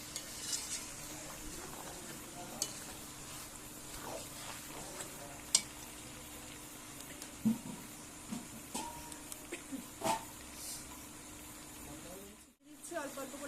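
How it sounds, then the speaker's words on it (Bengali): Chicken braising in a pan with splashes of hot water, a low continuous sizzle and hiss broken by scraping stirs and light clinks of a spoon on the pot, with a voice talking over it. "অল্প অল্প জল দিয়ে আমি আরেকটু কষিয়ে নেব অল্প অল্প গরম জল দিয়ে দিয়ে"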